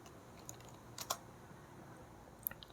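Computer keyboard keys tapped while typing a PHP file name, a few light clicks in small bursts with pauses between, close and quiet against faint background hiss.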